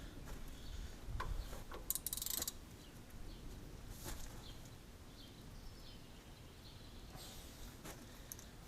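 A wrench ratcheting on a stubborn bolt of an Oliver 70 tractor, several short bursts of rapid clicking close by, the loudest around the two-second mark, over a steady background hum.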